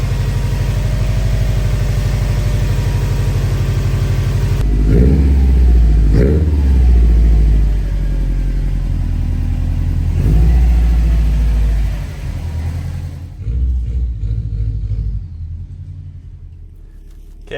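A Subaru engine idles and revs after its ignition coil pack connectors were repaired. A loud, steady close-up drone carries several sharp throttle blips that rise and fall, and then the engine quietens toward the end.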